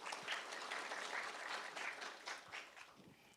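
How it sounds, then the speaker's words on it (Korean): Audience applause at the award ceremony for the 2022 National Institute of Korean Language AI language ability evaluation contest. A steady, dense round of many hands clapping fills the whole stretch at even strength and then eases slightly near the end. "축하 말씀을 전해주신 정의원 실장님께 다시 한번 박수 부탁드립니다"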